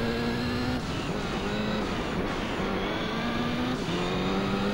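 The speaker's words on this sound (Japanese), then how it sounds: "音がすごい、プシュンプシュンいってる。" A Subaru Impreza engine in the Gran Turismo racing game revs steadily on a tarmac course, its droning note rising and stepping through gear changes at an even, moderately loud level with no talk over it.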